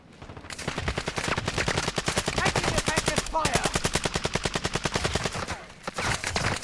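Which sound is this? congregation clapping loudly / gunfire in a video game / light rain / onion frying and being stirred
gunfire in a video game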